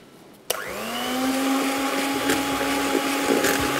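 An electric mixer kicks on with a click and whirs steadily while beating icing sugar with butter and vanilla essence for a pound cake, its motor whine loud and close with a faint rattle of beaters against the bowl.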